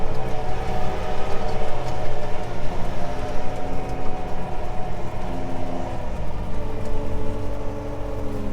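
A Merlo 35.7 telehandler drives with a loud, steady engine drone and whirring drivetrain, the pitch shifting as it changes gear, heard up close from the cab with no talking.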